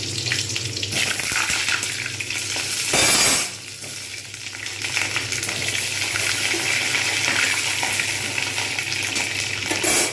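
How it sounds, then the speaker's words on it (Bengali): Pointed gourd pieces frying in hot white oil make a loud, continuous sizzle with crackles and spitting, and a brief louder burst of hiss early on as the pieces go in; no talking. "এখানে আমি পটলগুলো দিয়ে দেবো, একটু লালচে করে পটলগুলোকে ভেজে নেবো।"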